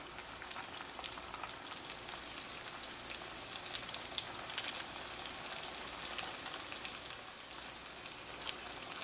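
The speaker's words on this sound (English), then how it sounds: "All you have to do is fry these on a medium heat until they're light and crisp" Wontons fry in oil over medium heat with a steady, even sizzle and a busy patter of tiny crackles like light rain, fairly quiet and continuous with no voices.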